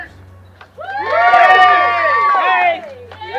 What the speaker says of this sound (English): Everybody cheer for the winners.